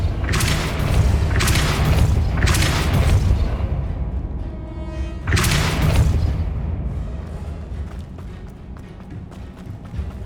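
In the Hogwarts Legacy video game, a Depulso spell lands as a series of heavy booming blasts, three or four loud broadband bursts over a low rumbling bed, each one fading into a decaying tail.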